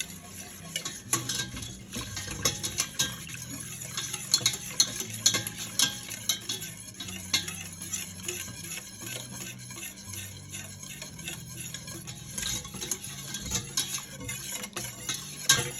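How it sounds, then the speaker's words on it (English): A spoon scrapes and taps steadily in a pot as thickening mac and cheese sauce is stirred on the stove. Soft irregular clinks and light sizzling continue throughout, close and fairly quiet, with no voices. "keep stirring it because you don't want it to burn"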